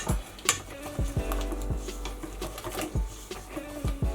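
Dry ingredients are worked into wholemeal pancake batter in a bowl, with a series of sharp knocks and taps from the mixing utensil against the bowl at irregular intervals over soft stirring, close by.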